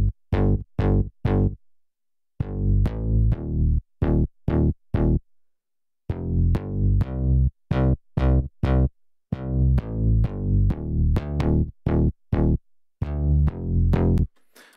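A progressive house bass patch from an NI Massive synth with effects plays alone in punchy, rhythmic staccato phrases with short gaps between groups of notes.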